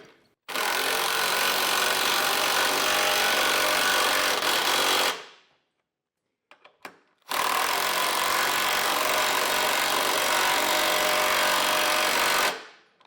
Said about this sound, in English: Once we've got those started, we'll run those down with a 17mm socket.